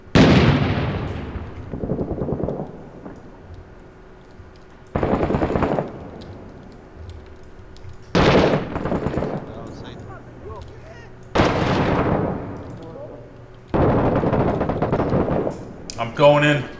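Loud booming blasts in a war shooter set in Fallujah, several sharp explosive bursts spaced a few seconds apart, with faint radio-style chatter in the gaps.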